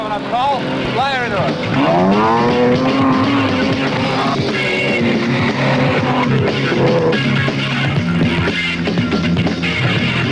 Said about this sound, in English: The machine can withstand the rigours of rallying, the toughest of all automotive sports.